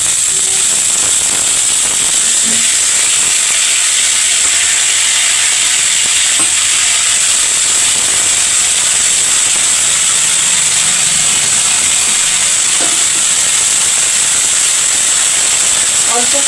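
Potatoes fry in hot oil with cumin, ginger, coriander, salt and chilli, giving a loud, steady close sizzle and hiss throughout, with occasional faint stirring clinks.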